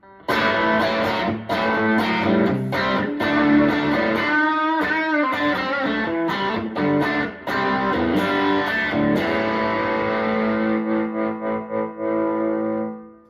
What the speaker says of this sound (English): Here I'm going to do the second channel on my Ectasy. So this is a little more distortion.